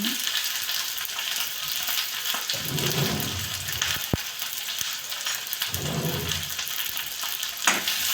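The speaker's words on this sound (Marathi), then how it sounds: "तेल तापल्यामुळे कांदा टाकून दिला मी" Onion frying in hot oil with mustard seeds, giving a continuous close sizzle with bursts of stirring and scraping in the pan and a few sharp clicks, with no talking.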